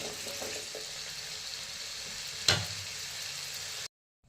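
Potato pieces deep-frying in hot oil for aloo chilli give a steady low sizzle, with one brief clatter partway through before the sound cuts off.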